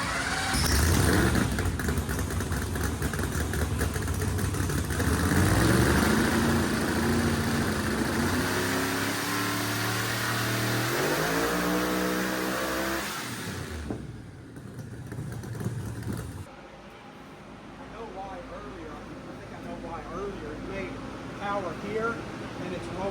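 A supercharged ProCharger car engine running on a dyno roars loud and close, its pitch climbing steadily as it revs hard, then cuts off abruptly and settles into a quieter, lower rumble.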